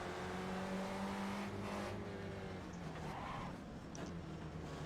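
Spec Racer Ford race cars run in the iRacing sim at Sebring in an AI race. A loud, continuous engine drone shifts in pitch as the cars accelerate, with layered engines from nearby cars in a congested pack.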